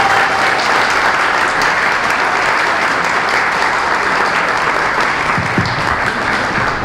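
An audience applauds a federal deputy introduced at a conservative gathering in São Caetano do Sul. The clapping is loud and dense, steady and continuous throughout, with a brief murmur of voices near the end.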